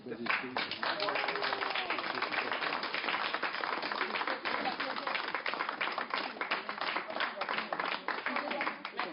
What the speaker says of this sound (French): applaudissez sous vos applaudissements généreux.